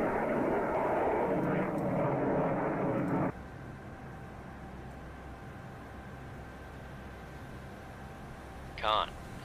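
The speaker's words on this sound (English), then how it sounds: "Con, Leica, aircraft dropping weapon" In the submarine game Cold Waters, a warplane roars overhead as a loud, broad rushing drone that cuts off abruptly, leaving a quieter steady hum and a brief electronic chirp near the end.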